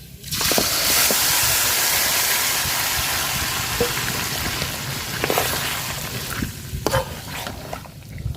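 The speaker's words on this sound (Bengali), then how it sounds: "পেঁয়াজ রসুন শুকনা মরিচটা হালকা ভাজা নিছি শুকনা মরিচ আমি হালকা ভাজি পুরা ভাজছি না তো মাংসটা দিয়ে দিলাম" Beef hisses and sizzles steadily in hot oil with onion, garlic and dried chillies, a loud broad frying roar with occasional clinks and scrapes of stirring.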